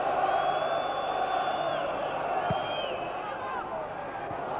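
Highbury stadium crowd at an Arsenal v Valencia Champions League game, a continuous loud roar of voices with whistles and shouts rising over it, fading slightly near the end.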